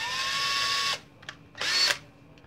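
A power drill with a 1/16 inch bit whines in two short bursts, the first about a second long and the second briefer, each cutting off sharply into quiet.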